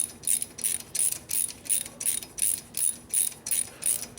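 A ratchet wrench works on a 1957 Harley-Davidson panhead engine during a cylinder head conversion, its pawl clicking in about ten evenly spaced strokes, close, crisp and unaccompanied by talk.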